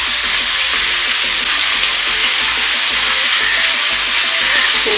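Potatoes and chickpeas frying in a pan with pumpkin for a vegetarian curry, producing a loud, dense, continuous hissing sizzle that holds steady for the whole stretch.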